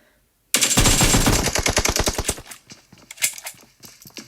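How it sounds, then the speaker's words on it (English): Automatic gunfire from the battle royale video game PUBG, a loud rapid burst of shots after a brief silence, followed by scattered lighter single shots and rattling. "But he was also spotted and shots were fired by Get Good, forcing Philippek to rotate"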